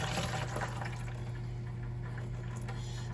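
Dirty water from an old household condensate pump pours into a bucket, a steady wash of splashing liquid over a constant low hum that continues unbroken for several seconds.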